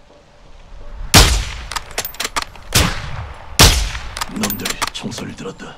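Gunfire in a war video game: three sharp, loud shots spaced about a second apart ring out with echoing tails, mixed with metallic clanks and smaller clicks of handling in between.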